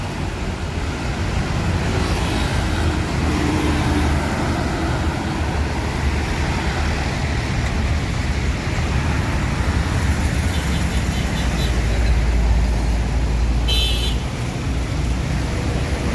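Buses and other vehicles passing in Jakarta road traffic, a steady loud roadway rumble with one vehicle swelling louder near the end.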